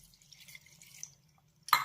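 Water poured into the spices and salt for a coconut chutney, first a soft trickling run, then a short pause and a single sharp splash at the end, close and fairly quiet.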